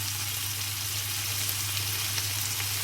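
Lamb chops fry in a pan on the stove with a continuous, even sizzle and soft crackle, moderately loud and with no voices.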